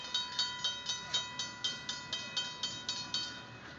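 A train passes on the Irvine Park Railroad with an even, rhythmic clickety-clack of wheels over rail joints, about three beats per second, close and clear with a steady mechanical tone underneath.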